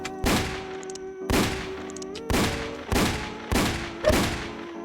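Peacekeeper revolver fired in the Roblox game Wild West, five loud, sharp shots spaced about a second apart, each with a short ringing tail.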